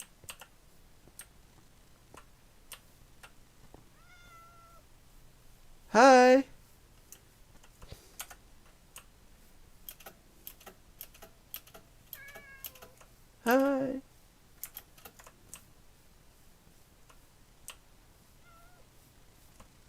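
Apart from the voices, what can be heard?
cat meowing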